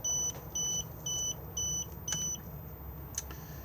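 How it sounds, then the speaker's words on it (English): A Lunar Lexon 660 caravan, unhitched from its tow vehicle, sounds a series of about five evenly spaced electronic warning beeps, each held briefly, followed by a shorter chirp, clear and close over a low background hum. "we are going to get a beeping sound and a red warning triangle just here because we are not hitched up to the tow vehicle"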